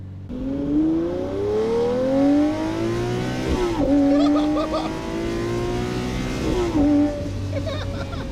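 Lamborghini Murcielago Roadster V12 engine revving up through gears, with sharp automatic rev-matching blips on downshifts, loud and close from inside the open cabin.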